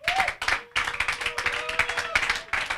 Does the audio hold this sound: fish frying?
no